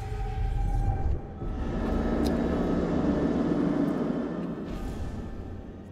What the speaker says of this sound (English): so there's a fucking helicopter.